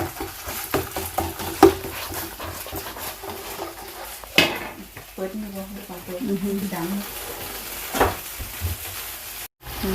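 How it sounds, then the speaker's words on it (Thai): Coconut milk is stir-fried in a pan for a Thai khanom jeen curry sauce, with soft sizzling, scraping and clinks of a utensil against the pan while someone talks over it. "ผัดกะทิให้มันหอมหอม"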